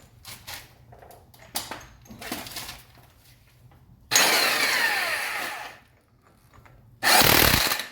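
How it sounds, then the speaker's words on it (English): An impact wrench snugs a hub bolt on a Jeep JK Wrangler during hub replacement, two loud rattling bursts in close range, the first lasting about two seconds, the second shorter, after quieter handling noises. "I'm going to snug it up with the impact"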